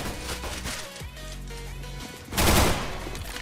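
MAC-10 submachine gun in CS:GO firing sustained full-auto bursts, a dense rapid rattle of shots that pauses briefly and resumes, with a louder, harsher stretch near the end; no voices.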